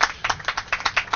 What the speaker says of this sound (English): Give the Bicycle Coalition a big, big round of applause.